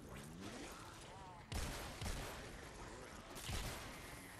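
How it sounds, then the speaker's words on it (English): Shotgun blasts in the video game Fortnite Save The World, three sharp booming shots spaced a second or two apart over a busy game background, fairly faint overall. "This shotgun is amazing, honestly."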